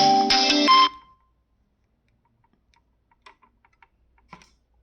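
A phone ringtone sounds loudly for about a second and then stops abruptly, followed by a few faint, scattered taps in otherwise quiet surroundings.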